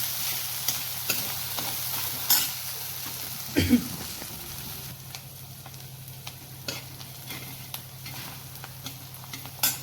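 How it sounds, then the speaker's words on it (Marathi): Masala paste sautéing in a pan for a pea and cauliflower curry, a steady sizzle with occasional clinks and scrapes of a spoon, one louder stir burst early on. "वाटण छान परतवून घेऊ"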